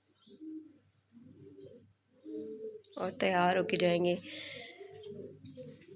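Soft morning pigeon coos repeat in the background while a person speaks briefly in the middle, over a low steady hum.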